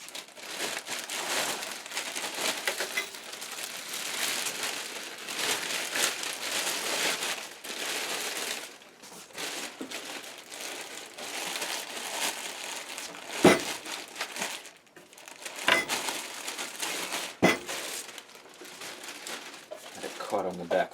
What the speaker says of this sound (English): So let's get it out of the plastic.